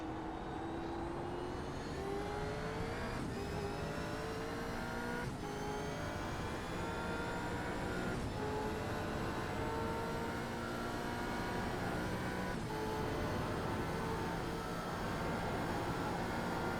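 Supercars race car engines in the iRacing game roar continuously at high revs, pitch climbing through repeated gear shifts with brief dips, loud and steady throughout, with no talking.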